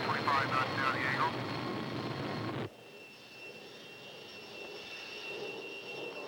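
An F-14 Tomcat jet approaches an aircraft carrier, a loud steady roar that cuts abruptly partway through to a quieter engine hum with a high whine, and radio voices are heard over it.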